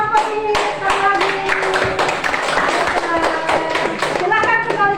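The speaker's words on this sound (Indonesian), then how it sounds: "tepuk tangan sekali buat 4 kelompok ini" A crowd claps steadily and loudly for four student groups in a classroom, with voices mixed in among the clapping throughout.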